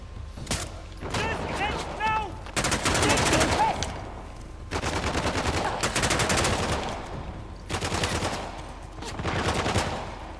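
Bursts of automatic gunfire in the video game Uncharted: The Lost Legacy, arriving in several dense, sustained volleys with brief pauses between them, fairly loud and busy, with a voice speaking briefly over the early part.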